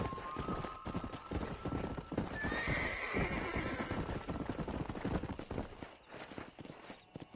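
Horse hooves clip-clop at a run with a clear neigh in a Red Dead Redemption ride across open country, dense hoofbeats throughout and the whinny rising mid-clip, no talk.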